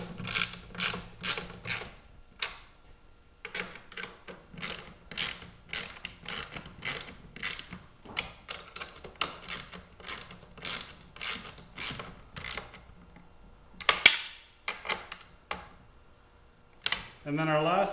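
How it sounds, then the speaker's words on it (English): Bolts being tightened on the lower Y handle arms of a Bora Series magnetic sweeper, heard as a long run of rapid ratcheting clicks in bursts with short pauses, close up. "we can tighten our 2 lower Y handle arm bolts on each side."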